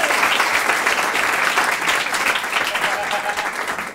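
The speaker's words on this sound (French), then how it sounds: "On peut les applaudir très fort, non?" A comedy show audience claps loudly for the comedians in a steady, dense round of applause that lasts throughout, with some voices mixed in.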